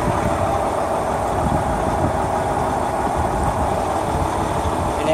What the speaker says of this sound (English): This is my new Honda GX390 UT2.